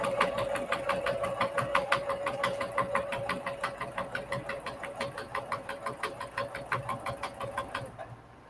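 Sewing machine fitted with a walking foot, stitching batting to quilt blocks: a steady, rapid mechanical stitching rhythm running close and uninterrupted for about eight seconds, then stopping, with no talking.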